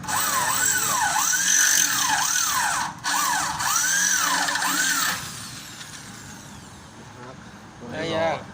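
A high whining drill bores into a safe, running steadily with a warbling, siren-like pitch, cuts off briefly, then fades into rattling mechanical noise and a short burst near the end.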